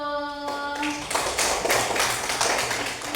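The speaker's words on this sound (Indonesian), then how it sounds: "tepuk tangan dulu" Hand clapping in a classroom or lesson setting, a few people clapping in quick, fairly steady claps that start abruptly after a held tone and continue to the end.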